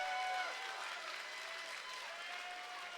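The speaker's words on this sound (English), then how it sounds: "how about a nice round of applause for these two amazing fighters?" Crowd applause and cheering fill an arena after a mixed martial arts fight, a steady distant wash of clapping lasting throughout.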